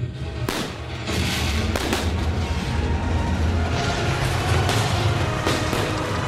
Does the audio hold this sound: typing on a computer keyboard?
no